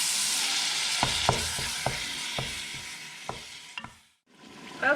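Ground beef browns in a hot pan on high heat, a loud steady sizzle with intermittent spatula scrapes and taps, then a short pause before the sizzle resumes.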